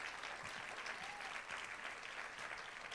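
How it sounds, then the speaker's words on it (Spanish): Church congregation applauding during a Sunday morning service, a steady dense wash of many hands clapping together, moderately distant and continuous throughout with no talk over it. "Dale un aplauso fuerte al Señor en esta mañana."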